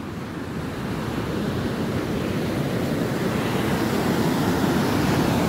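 Steady roar of ocean surf washing onto a beach, a dense, continuous wash of breaking waves that builds slightly, loud and close with some wind buffeting the microphone, no voices.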